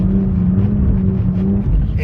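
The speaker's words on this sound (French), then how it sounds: "Et bam, là tu freines, descends en seconde." Supercar engine holding a steady low drone as the driver brakes and downshifts to second gear while drifting on a track, loud and close with no other sounds.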